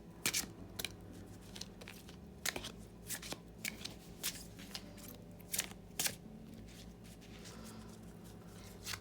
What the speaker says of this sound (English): All right, so now let's get down to shuffling.